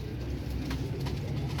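Pigeons of a Royal Teddy breed coo softly and continuously in a low, steady murmur that fills the short stretch, with no talk over it.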